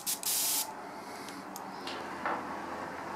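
An airbrush sprays paint at turned-down compressor pressure, with a short loud hiss burst at the start followed by softer intermittent puffs and faint hissing close by.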